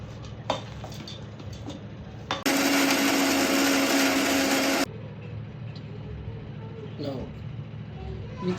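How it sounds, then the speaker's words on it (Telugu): A mixer grinder whirs loudly for about two seconds, grinding dry fruit ingredients other than raisins and jaggery, then cuts off abruptly, with quieter talking and kitchen movement before and after. "మిక్సీ వేసేసుకొని మొత్తం గ్రైండ్ చేసుకోవాలి."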